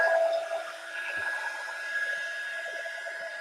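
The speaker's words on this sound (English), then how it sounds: "let's hit it with the heat gun" Heat gun blowing on a sealed treat box, a steady close whirring hiss with a high tonal whine, continuous throughout with no talking.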